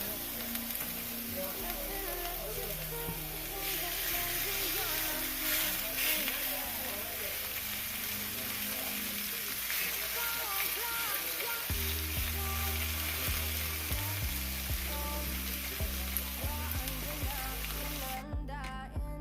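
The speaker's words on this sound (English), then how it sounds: "y'all will be able to hear the sizzle from the second steak that I placed in the grill pan" Steak searing in a very hot grill pan, a steady broadband sizzle and crackle running throughout, moderately loud, with some low background tones and possible faint talk underneath.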